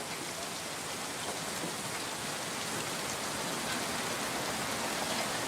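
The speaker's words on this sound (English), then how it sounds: "The rain." Steady, even rainfall hisses and patters on surfaces, a dense continuous wash at moderate distance with no voices over it.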